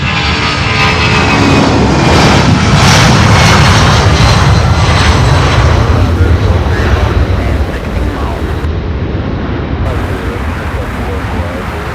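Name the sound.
Boeing 757 jet airliner taking off at night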